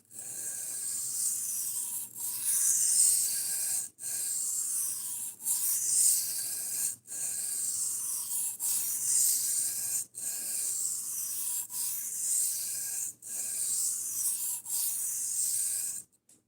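A knife blade is drawn repeatedly across a sharpening stone, giving a harsh, hissing rasp in regular strokes about every two to three seconds with short gaps between, quiet and close with no talking.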